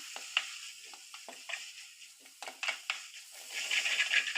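Drumstick rasam with coriander leaves, ginger and garlic stirred in a pan: a few quick, close scrapes and light clinks over a faint sizzle, swelling slightly at the end.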